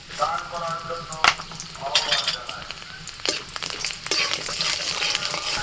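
Black mustard seeds and chana dal sizzle in peanut oil in a pan, a close, crackling fry with several sharp clinks and bursts as more ingredients drop in, growing louder toward the end.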